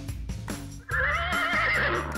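A single horse lets out a loud, close whinny that rises and trembles for over a second, after a few brief rustling and knocking sounds.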